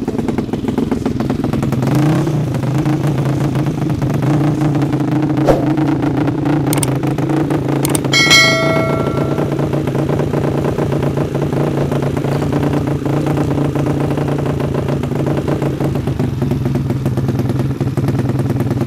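A Honda Beat 150 grasstrack scooter fitted with a CLD Monster exhaust idles loudly and steadily close by, a deep even engine drone with a brief metallic clatter and a short rev partway through, no talking.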